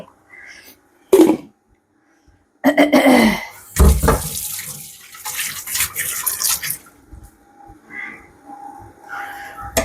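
Water is poured into a cooking pot in short splashing bursts with pauses between them, close and fairly loud, and a voice can be heard faintly in the background.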